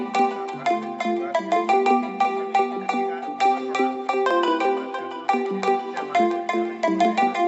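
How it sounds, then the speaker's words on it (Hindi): A mobile phone ringtone plays through a patriotic poetry program, a loud, melodic run of bright electronic notes repeating steadily with no one talking over it. "हाँ, एक फ़ोन आ रहा था"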